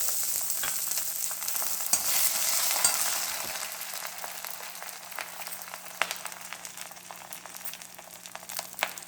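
Curry leaves and green chillies frying in hot oil for a ridge gourd chutney, a steady crackling sizzle with sharper pops scattered throughout, close and fairly loud, with no talking.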